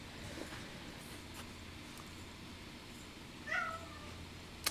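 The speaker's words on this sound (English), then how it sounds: "my cats have got to be outside the door being loud right now" Cats meow outside a door a couple of times near the end, brief and fairly close, over a quiet room hum.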